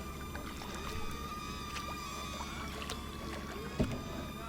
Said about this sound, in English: there's a boat going by.